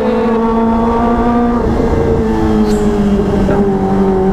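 Kawasaki ZX25R motorcycle fitted with an aftermarket exhaust, loud steady high-pitched engine drone held near and close throughout, with a small pitch shift partway as the revs change.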